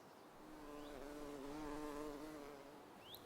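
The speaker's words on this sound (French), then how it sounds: "La libellule à quatre taches est un vrai petit dragon." Four-spotted chaser dragonflies buzz faintly over a small pond, a thin, wavering insect hum that swells and fades gently over a few seconds.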